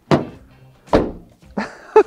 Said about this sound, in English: It's especially bad when you shut the door